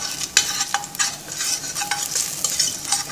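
Garlic sizzles in a pot on the stove while a utensil stirs it, giving a steady frying hiss broken by repeated scraping strokes, close and alone.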